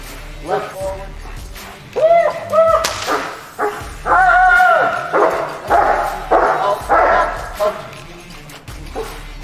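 A strong, independent dog barks and yips repeatedly during attack training, with sharp close bursts in an irregular rhythm, some whimpering between them, and a handler's voice over the barking.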